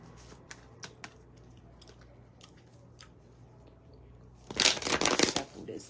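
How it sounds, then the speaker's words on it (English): After scattered light ticks and taps, a deck of playing cards is shuffled in a brisk burst of close riffling clatter lasting about a second and a half, with soft talk faint in the background. "Shuffle this deck."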